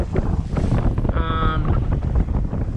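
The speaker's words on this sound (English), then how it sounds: "this wind is picking up" Wind buffets a sailboat under way at sea, a loud gusty rush with microphone blustering and the wash of water along the hull, close and continuous.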